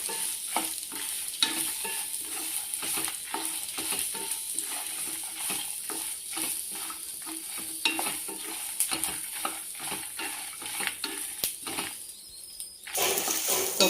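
Coconut pieces and cumin fry in a pan for a raw mango coconut chutney, giving a steady close sizzle broken by quick rhythmic stirring scrapes throughout, with a short lull near the end before the sizzle rises again.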